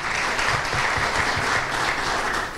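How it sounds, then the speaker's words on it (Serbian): An audience at a public forum claps for the city's mayor, a steady, full burst of applause filling the room without pause. "Jedan aplauz za gradonačelnika."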